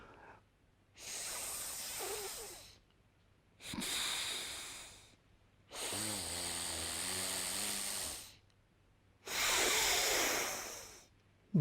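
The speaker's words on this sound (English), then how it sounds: "close the left nostril and breathe out" Long, forceful breaths pushed out through one nostril with the other held closed, four hissing, airy exhalations separated by short pauses, close and alone without talk.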